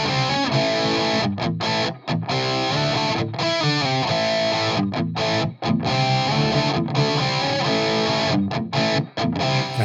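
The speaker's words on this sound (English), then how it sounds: "So what I'll do now is I'll A/B muting and unmuting just that reverb plugin" Distorted electric guitar through a cab with a reverb plugin switched on and off, loud driven chords and riffs with brief sharp stops between phrases.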